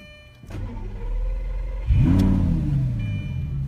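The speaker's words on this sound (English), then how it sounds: "start the car, put the foot on the brake" A Lamborghini engine fires up with a loud, rising roar that settles into a deep, steady idle, preceded by a soft mechanical thump heard from inside the car.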